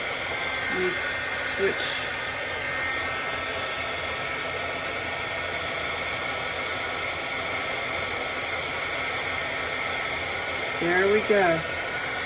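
A heat embossing tool blows a steady, airy hiss near the mic throughout, while a person talks briefly at the start and end.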